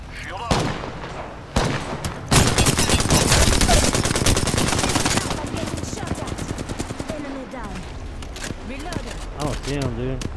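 Rapid bursts of automatic gunfire from the shooter game Apex Legends, loud and dense through the middle, with sharp single shots earlier and lighter firing later under excited voices talking.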